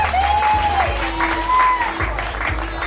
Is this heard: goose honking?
no